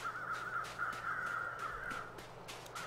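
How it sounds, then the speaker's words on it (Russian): Crows cawing in the snowy survival game The Long Dark, a steady run of harsh, rhythmic caws repeating about every third of a second, loud and close over a constant wind-like wash. "Вороны кричат."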